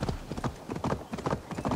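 A horse gallops in Assassin's Creed Valhalla, rapid, rhythmic hoofbeats thudding in quick, even clusters, close and prominent for the whole short stretch.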